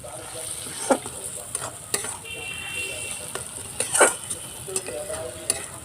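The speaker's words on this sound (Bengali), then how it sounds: "মিডিয়াম আছে কষাতে হবে মশলাটা।" Spice paste for a loach fish curry sautés in a pan over medium heat, with a quiet ongoing sizzle and several close scraping stirs of the spatula spaced across the stretch.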